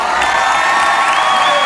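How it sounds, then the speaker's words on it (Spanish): A studio audience greets the cast stars of a telenovela with steady, loud applause mixed with cheering and whoops, a dense wall of clapping that holds for the whole short stretch. "¡Aplausos para ellos!"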